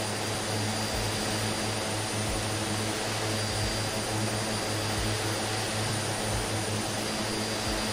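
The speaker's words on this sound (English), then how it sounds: "this Twin Otter is absolutely such a simple aircraft to fly" Twin Otter aircraft engines droning steadily in flight on a scenic trip over Victoria, Australia, a loud, constant propeller roar with a low hum and no pauses, heard from inside the cabin.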